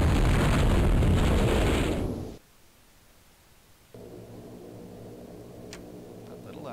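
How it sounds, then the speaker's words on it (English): Explosions in the naval simulation game Dangerous Waters: a loud, sustained roaring blast rumbles for about two seconds, then cuts to near silence before a quieter low hum returns. "We're seeing some explosions here"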